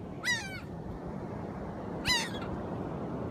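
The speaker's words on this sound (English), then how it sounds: "These are the seagulls down here." Seagulls by the water give two sharp, descending cries about two seconds apart, clear over a steady outdoor wash of wind and surf.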